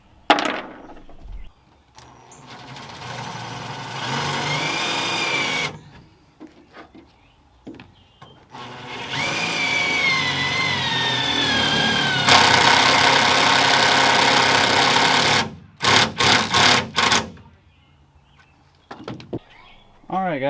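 A power drill drives self-drilling screws into the bed of a Ram truck, with several long whirring runs whose pitch sags as the screw bites, separated by quiet pauses and followed by a few quick short bursts.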